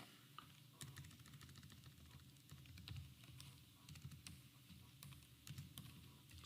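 Quiet keystrokes on a computer keyboard while entering a subject name, a faint, steady patter of clicks spread evenly throughout, heard alone over low room noise.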